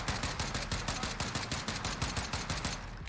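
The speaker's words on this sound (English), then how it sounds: "I have rapid fire on my DMR." Rapid fully automatic DMR gunfire in Warzone, a dense unbroken stream of loud shots in quick rhythm with game battle noise behind it, no speech.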